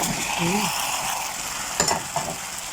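Potato, carrot and zucchini sizzle and fry with beef in a pan, a steady broadband hiss with a few soft clinks of stirring near the end.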